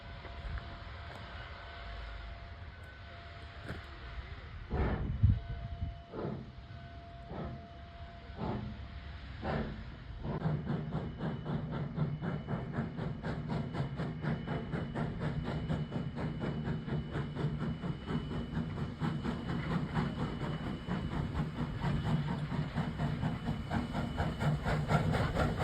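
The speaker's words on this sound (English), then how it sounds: "You can see he's blowing off some steam there." A Virginia and Truckee Railroad steam locomotive with two leading wheels and eight drivers, near Gold Hill, blows off steam in a loud, steady hiss that builds after several sharp chuffs and clanks, continuing close and unbroken to the end.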